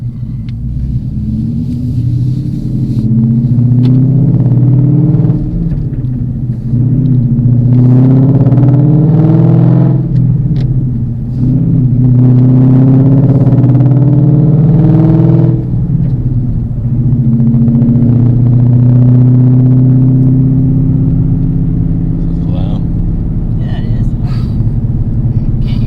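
A T56-swapped 2016 Mustang GT with a Coyote V8, not yet warmed up, idles with a deep, steady rumble that holds for the whole stretch while people talk over it nearby.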